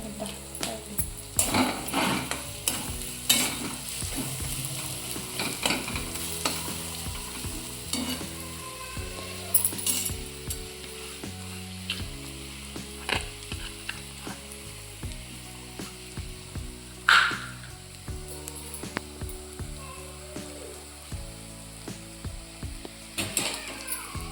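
Green chillies, garlic and vegetables sizzle steadily in a hot pan while a spoon stirs and scrapes through them, with frequent clinks and scrapes close by over a quiet, constant frying hiss.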